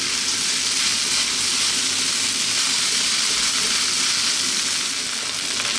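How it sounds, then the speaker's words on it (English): A loud, continuous hiss and crackle of rice for chicken fried rice frying in a pan over very high heat, steady and close throughout with no voices. "That is the rice frying there. That's the sound we want."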